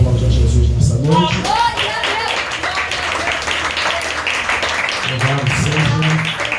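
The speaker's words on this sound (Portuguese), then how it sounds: "Você pode aplaudir a Jesus nessa noite" A church congregation breaks into sustained applause, a dense near wash of many hands clapping, with a voice speaking over it at the start and end.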